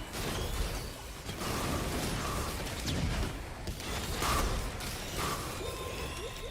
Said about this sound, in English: I'm gonna scrap the roll of pennies